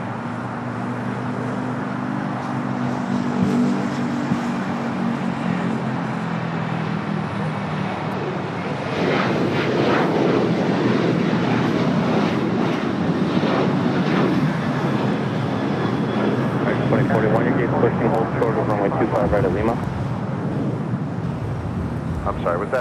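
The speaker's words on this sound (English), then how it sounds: "Next takeoff, American Airlines Flight 2301." An American Airlines jet takes off at LAX, a continuous engine roar that swells and grows rougher partway through, with a voice talking briefly over it.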